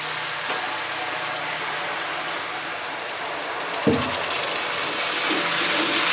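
Water poured into a pan of frying potato and ginger curry brings a steady, hissing sizzle with a brief sharp splash partway through, close by and without talk.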